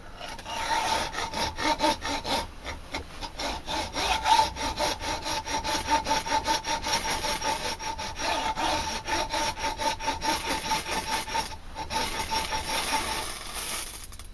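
A ferrocerium rod is scraped repeatedly in quick rasping strokes, loud and close, with a steady rhythmic rubbing texture and no talking.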